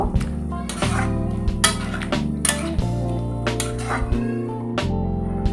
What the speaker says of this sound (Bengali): এক চামচ মতন গরম মশলা মিশিয়ে নেব